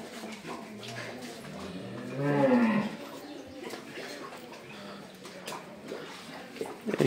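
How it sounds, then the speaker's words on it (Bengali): Cattle, pregnant Friesian-type cows with a calf, on a farm: a brief, loud, low moo-like call swells and falls near the middle, over steady farmyard background with faint distant voices. "এখানে আরও গাভী আছে"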